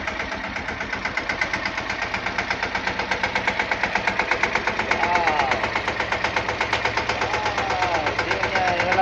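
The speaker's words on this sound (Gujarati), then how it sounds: "એની દીદી ટ્રેક્ટર કેવું સરસ હકાવે છે" A tractor engine runs while being driven, a loud, steady chugging with evenly spaced rhythmic pulses and a vibrating rumble, with voices faintly heard over it at times.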